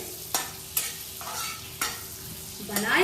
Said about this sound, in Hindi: आज हम तेल की जगह बटर में ही बनाएंगे